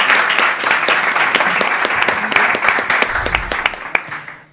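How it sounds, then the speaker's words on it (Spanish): An audience at a Spanish talk show claps in steady, dense applause that stays loud, then thins and fades out toward the end. "Un aplauso para Alex Vargas, por favor."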